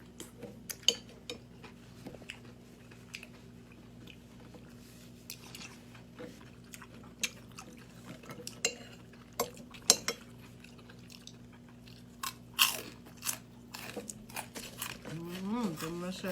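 Close crunching and biting sounds come in irregular bursts as someone eats bamboo shoot curry with mushrooms and grilled pompano fish, with light cutlery and dish clinks and a voice speaking near the end.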